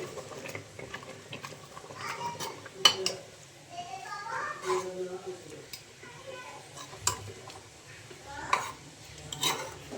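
A spoon stirs and scrapes through mustard greens saag in a pressure cooker, producing scattered metallic clinks and knocks, with light scraping under faint background voices.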